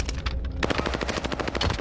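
Rapid automatic gunfire from the Modern Warfare 2 beta video game, a fast rattling burst of closely spaced shots that starts abruptly after a brief quieter moment, loud and without talk.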